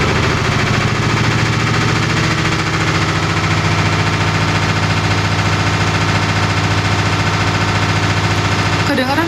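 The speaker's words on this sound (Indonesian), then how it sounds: "Suara mesin cuci kayak gitu ya guys." A washing machine runs with a loud, steady mechanical drone, its tumbling giving a fast, regular rattling pulse that continues throughout, recorded up close.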